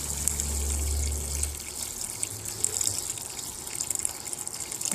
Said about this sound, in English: Okay, so let me go ahead and add some water.